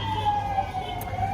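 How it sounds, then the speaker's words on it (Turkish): An ambulance siren wails steadily at moderate distance over low traffic rumble, a continuous tone that holds through the whole moment. "Ay inşallah ambulans sesi çok gelmiyordur."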